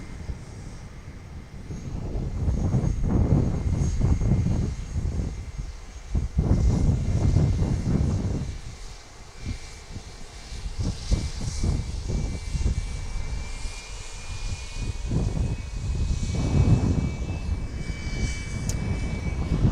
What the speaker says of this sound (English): That's a 737-800 there, and a Challenger 350.